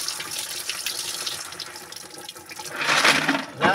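Snails are washed under running tap water, a steady splashing stream that grows louder and fuller near the end as the water hits the shells and basin.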